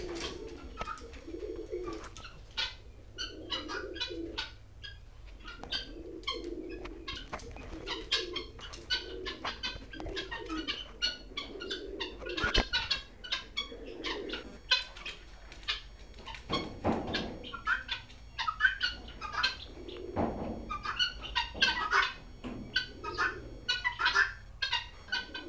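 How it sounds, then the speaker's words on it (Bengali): Birds on a small poultry farm where hens are laying eggs, giving repeated low cooing, clucking calls in a steady rhythm, close and moderately quiet, with sharp clicks and knocks scattered among them. "এগুলা মুরগি।"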